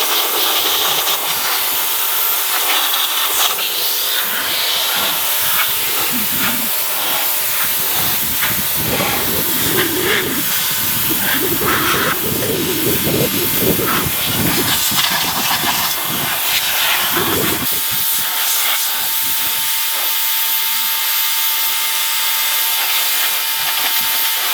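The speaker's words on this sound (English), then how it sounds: "let's get the hose out and rinse all that off" A garden hose sprays water over a car to rinse it, producing a loud continuous rushing hiss with shifting spatter as the stream moves across the bodywork.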